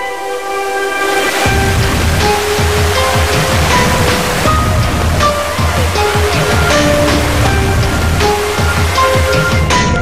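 A loud, constant rush of falling water from Sri Getuk waterfall roars without pause, with faint tonal sounds drifting over the steady wash.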